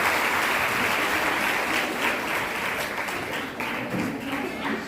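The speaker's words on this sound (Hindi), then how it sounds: "चलिए जोरदार तालियां बजाइए।" Audience in a hall at an employment program event for women in Aurangabad claps loudly; dense, continuous applause filling the room, steady in level throughout.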